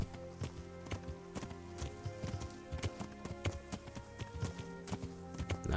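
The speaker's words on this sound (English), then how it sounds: "Let's just take our nice horse up this treacherously steep slope." Horse hooves clip-clop in a steady, quick rhythm as a horse climbs a steep slope in the medieval video game Kingdom Come: Deliverance, close and clear over a soft, tonal background.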